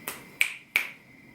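Three crisp finger snaps ring out alone at an even pace, close and fairly loud, each with a short bright tail.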